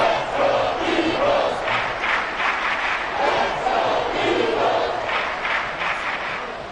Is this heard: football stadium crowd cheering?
yes